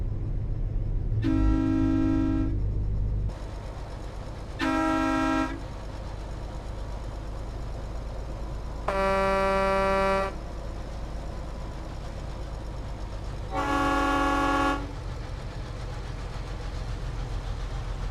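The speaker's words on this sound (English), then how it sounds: "Vigner said nice horns, and Adam says some horns do not echo." Four long truck air horn blasts sound in Euro Truck Simulator 2, each lasting one to two seconds and separated by gaps, loud and close over a steady low engine drone.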